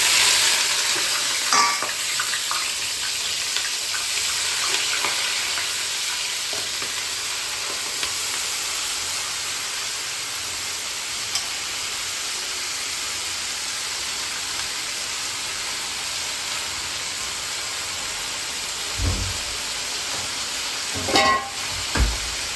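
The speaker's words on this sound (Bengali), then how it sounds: "তেল গরম হয়ে গেছে, এখন আমি তরকারিটা ছেড়ে দেবো।" Vegetables for Bengali chorchori fry in hot oil with a steady sizzle and hiss throughout, punctuated by a few louder stirring scrapes and clatters near the end; no one speaks.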